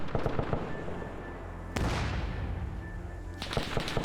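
A pack gun firing in a World War II–era combat video game set in the 1948 Arab-Israeli conflict, with scattered shots, then one loud heavy report that rings out and decays, followed by more gunfire.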